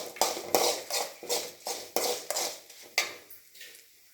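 Six dried red chillies roast in a pan for a pirandai thuvaiyal, the utensil knocking and scraping the pan in repeated sharp strokes about every half second, close and clear, trailing off at the end.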